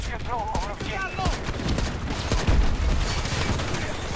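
Gunfire in the video game Battlefield 2042, dense overlapping rapid shots and bursts in a busy fight, with a voice and other battle noise mixed in.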